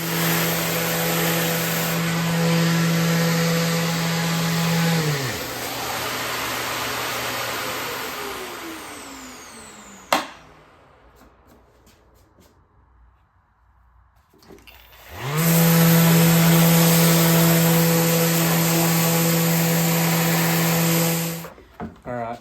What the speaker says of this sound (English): Just got done doing the 60 grit on the face frame here